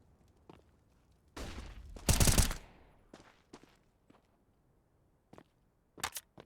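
Counter-Strike match on Dust2 with sharp, loud rifle shots, one big blast standing out amid scattered footsteps and lighter clicks, followed by a couple of quicker cracks near the end.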